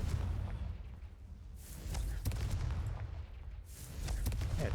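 Confringo fire spell in the Hogwarts Legacy video game, a few booming blasts with crackling bursts layered over continuous low rumble, recurring roughly every second or two.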